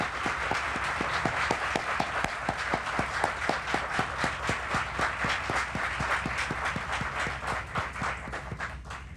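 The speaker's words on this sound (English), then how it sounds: "You may now join me in applauding them" An audience at a Howard University community project event gives sustained, rhythmic applause, many hands clapping in a steady, even patter for about nine seconds at moderate distance.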